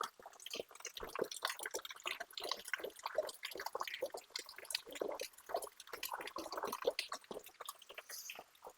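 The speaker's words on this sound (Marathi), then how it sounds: "पाणी पडतंय वरून." Water dripping from above into a modest farm well, a quick irregular patter of small splashes and drips, soft and close, continuing steadily with no voices.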